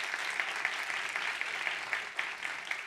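An event audience applauds to welcome a speaker at a conference launch, a dense, steady wash of clapping that holds evenly for a few seconds with no voices over it.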